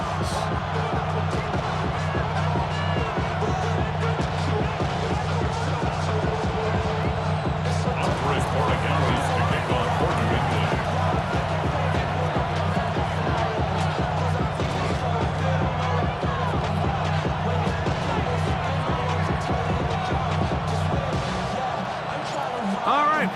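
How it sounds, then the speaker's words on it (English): Stadium crowd roar in the video game Madden NFL 26 at the Houston Texans' home field before a Patriots–Texans kickoff, a steady dense wash of cheering throughout, with commentators talking over it. "The crowd is definitely ready."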